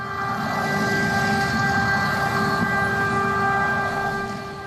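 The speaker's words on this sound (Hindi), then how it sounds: "कीव और ओदेसा समेत कई शहरों में सायरन बजे" Air raid sirens wail across Kyiv during wartime, a loud steady sustained tone with layered harmonics held for the whole stretch over a low rumbling background.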